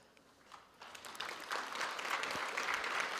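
Graduates applauding at a Walter Sisulu University graduation ceremony in May 2023, clapping that starts faint and swells into a broad, even wash of many hands, somewhat distant in a large hall.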